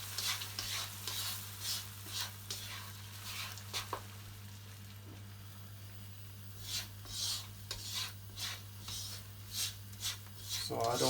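Two eggs being whisked and scrambled in a pot for king prawn fried rice: scraping strokes of the utensil against the pot in bursts, quiet and close over a steady low hum, with a sizzle rising at the end.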